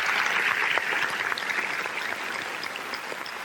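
A crowd applauds steadily at a university honorary doctorate ceremony. The clapping is dense, even and sustained from many hands, with no talking over it.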